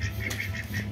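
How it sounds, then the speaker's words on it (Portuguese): A teal duck quacks in a short burst of rapid nasal calls, close and fairly loud over a steady outdoor background, with no talk over it. "Acho que é marreco, isso daí"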